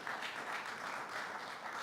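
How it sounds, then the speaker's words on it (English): Audience applause at a New York governor's press event, a steady wash of many hands clapping at moderate distance with no break, fairly faint. "Let's give them a round of applause."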